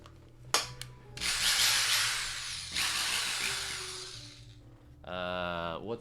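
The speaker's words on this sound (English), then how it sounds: "It's time to drill." An electric drill runs in a few short bursts of high whirring that start and stop, close to the listener, with a brief pause between runs.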